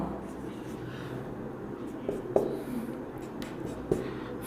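Marker or chalk scratching on a board while solving a physics problem, soft steady strokes with a few sharper taps, quiet and close.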